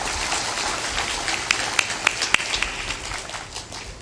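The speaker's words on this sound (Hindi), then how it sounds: "ताली बजाओ, हाथ जोड़ो।" Audience at a religious satsang gathering in Khagadiya, Bihar clapping, a scattered patter of hand claps with a few sharp louder claps standing out over a low crowd murmur.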